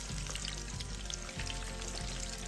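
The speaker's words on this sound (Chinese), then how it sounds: "再一次大火油炸。" Tofu deep-frying in oil over high heat on its second fry, a dense, continuous bubbling sizzle that stays steady and close throughout, with no voices.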